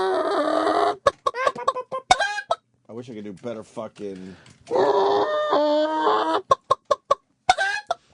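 A man imitates a clucking hen with his voice, giving sharp repeated clucks and drawn-out squawks in bursts up close, broken by brief spoken words.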